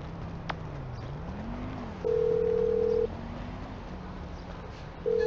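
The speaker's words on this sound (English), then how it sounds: "Whoa, who changed my ringtone?" A cell phone ringtone in GTA V, a simple electronic melody of steady sustained tones with a short beep repeating, heard over a low background hum.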